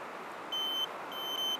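A multimeter on continuity mode, used while troubleshooting an Atwood RV water heater, gives two short high electronic beeps as its wire leads touch, the second slightly longer, over a faint background hiss.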